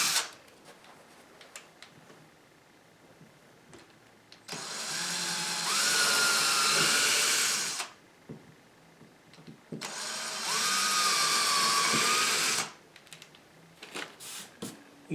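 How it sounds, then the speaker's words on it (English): An electric drill bores partway into the thickness of a sliding closet door, running in two loud whining bursts of about three seconds each, close by, with quiet handling noises between. "you drill through just a little bit."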